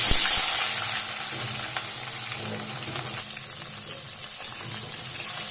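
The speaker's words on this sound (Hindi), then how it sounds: "अब हम इनमें प्याज डाल देंगे।" Onion slices frying in hot oil with reddened tempering spices for Delhi-style rajma masala, giving a steady close sizzle that fades slightly after the first second, with a few faint clinks, no voices.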